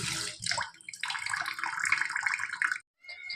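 Tilapia fish is rinsed by hand in running water at close range: a steady splashing, trickling flow lasting almost three seconds, then a brief pause and a few more small splashes, with no voices.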